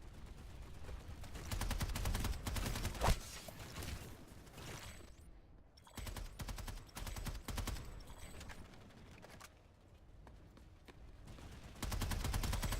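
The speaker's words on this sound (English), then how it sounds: "I fire 13 rounds consecutively without pause." Rifle fire in the video game Planetside 2, with rapid bursts of shots including a long unbroken string of about thirteen rounds, loud and continuous across the stretch with brief lulls between volleys.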